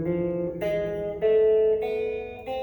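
A musical scale played note by note with one note raised a semitone: five sustained pitched tones in a rising sequence, each clearly separated, heard alone without talk.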